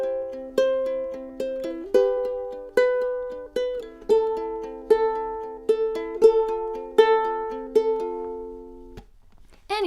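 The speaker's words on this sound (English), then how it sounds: "if you pluck a bit harder with your third finger on the bottom string" Ukulele fingerpicked in a steady plucking pattern, the third finger striking the bottom string harder so those notes ring out louder; clear, close plucked notes in a regular rhythm, played alone.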